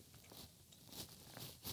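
A crunchy gluten-free lady finger cookie made with gluten-free flour is bitten and chewed close up, giving a few quiet crisp crunches and crackles with no talking.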